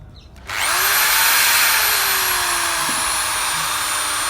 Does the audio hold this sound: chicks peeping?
no